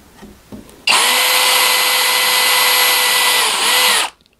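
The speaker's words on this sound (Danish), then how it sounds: "Og så skal vi lige se, om vi ikke kan bore et hul i den her." A power drill runs at steady high speed through an aluminium license plate mounted on a bike rack, loud and close, with a long continuous whine that dips briefly before it cuts off.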